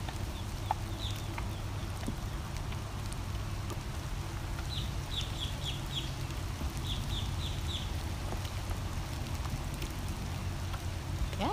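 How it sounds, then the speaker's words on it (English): Steady rain patters on a surface throughout, with a few chickens clucking and chirping in short bursts in the background. "You don't mind the rain at all, do you?"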